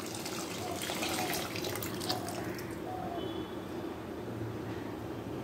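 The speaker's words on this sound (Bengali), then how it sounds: "জল অ্যাড করে দেবো।" Tap water runs steadily into a pot of salted lentils, a continuous rushing pour with faint splashing that holds even throughout.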